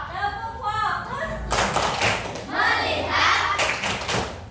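Fifth-grade classroom focus clapping routine, children clapping in rhythmic bursts with thuds and taps mixed with voices chanting along.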